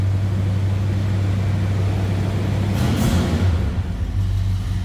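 A 1972 Buick Skylark GS 350 V8, just settled off its high cold-start idle, rumbles steadily up close with a low, even throb and a brief swell near the middle.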